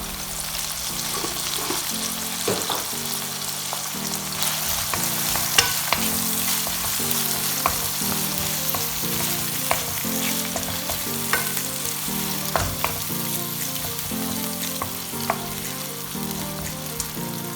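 Meat and bell peppers cook in an oiled pan, a continuous even sizzle with regular scraping stirs throughout and no talk.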